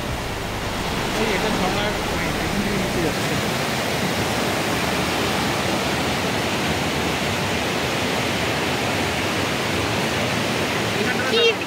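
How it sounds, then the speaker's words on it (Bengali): Steady, broadband rushing water fills the whole clip, like a nearby waterfall roaring continuously without pause, at Johnston Canyon in Canada. "এখান থেকে ঝর্ণাটা গেছে ওদিকে।"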